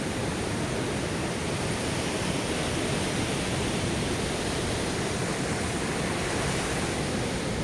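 Storm waves from Typhoon Kristine keep up an even, hissing roar, the sea's churn steady and unvarying from start to finish with no talking.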